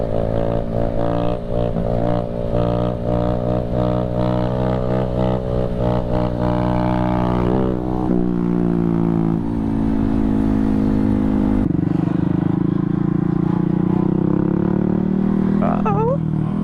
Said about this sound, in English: It's too wet, so we figure we just hit the mini motos.